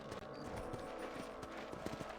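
Horse hooves clip-clop in a steady trotting rhythm beneath a dense bed of Red Dead Redemption game music and ambience, moderately loud and continuous.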